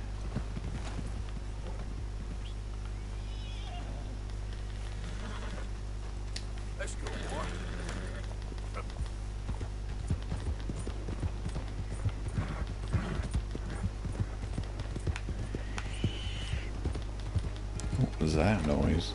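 Horse hooves clip-clop in Red Dead Redemption 2, a steady run of close hoofbeats over a low game soundtrack hum, with talk over the top.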